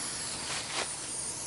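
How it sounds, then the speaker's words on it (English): A short, steady hiss of spray paint from an aerosol can at an outdoor shooting range, used on steel targets; the airy spray swells briefly near the middle, with no talking. "My people know spray paint."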